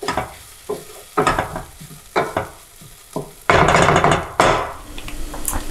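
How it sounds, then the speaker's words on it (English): Thai curry paste sizzles in a hot pan while a utensil stirs it, giving bursts of loud crackling and scraping that rise and fall in short strokes, with a heavier sustained sizzle toward the end. "release all its flavors when it's sizzling like this in the pan. So a couple of good stirs"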